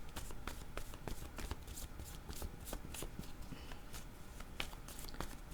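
Tarot cards are shuffled and drawn by hand, giving a steady run of soft riffling and papery flicks with sharp slaps scattered throughout, close and continuous, with no talk over them.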